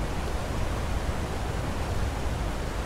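Steady broadband rush of a waterfall in Skyrim, loud and close, continuous and unbroken, with no voices over it.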